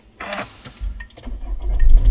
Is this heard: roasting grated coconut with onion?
no